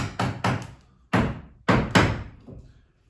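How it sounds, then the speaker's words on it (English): Several sharp hammer blows drive a hinge pin into an old wooden door in an uneven rhythm, some in quick pairs, each with a short resonant thud. "Just hammer that one in, like so."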